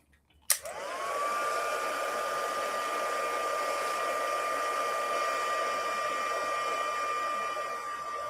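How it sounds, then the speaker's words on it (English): A handheld heat tool for melting embossing powder clicks on and then blows steadily and loudly up close, a constant airy whoosh with a thin motor whine that holds to the end. "heat tool again"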